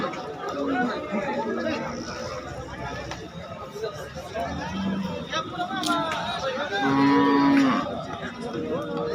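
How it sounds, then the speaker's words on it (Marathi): Cows moo at the Sangola livestock market over a busy murmur of voices and crowd chatter, with a loud drawn-out low bellow near the end. "सांगोल्या बाजारातल्या गाय आहेत बरं का"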